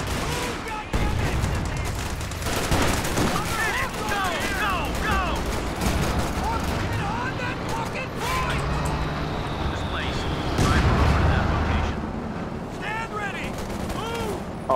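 A grenade blast and rattling gunfire ring out in a Company of Heroes match, sustained battle noise with sharp bursts layered throughout while players talk over the din.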